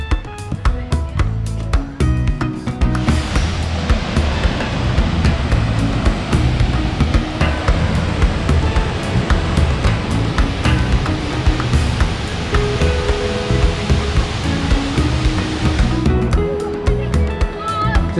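Taughannock Falls, a waterfall in a state park, pours as a dense, steady roar that swells in after a few seconds and holds loud, with voices talking over it.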